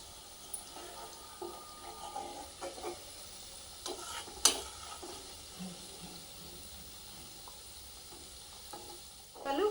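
Prawn pieces frying in oil for a pickle give a faint, steady low sizzle, with occasional soft clinks and scrapes of stirring and no talk.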